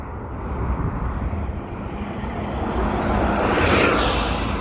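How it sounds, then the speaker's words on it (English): A large bus passes close by on a city street, a broad loud rumble of engine and tyres swelling and peaking near the end as it goes past, with no talking. "I had to let the bus go by, guys. It got loud."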